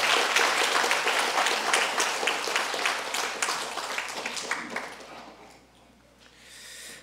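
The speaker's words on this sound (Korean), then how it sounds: "저희들이 정말 이 용기 격려의 박수" A church congregation applauds in encouragement for bereaved family members at a memorial service, sustained clapping from a full room that fades out toward the end.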